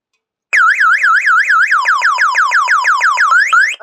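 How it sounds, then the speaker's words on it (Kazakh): A motorcycle security alarm wails loudly and up close in a steady repeating warble, each rising whoop cycling rapidly for several seconds before it cuts off abruptly. "Қазір сигнализациясы қосылды. Мен енді бұны ақырын қозғасам, сигнализациясы жұмыс жасай бастайды."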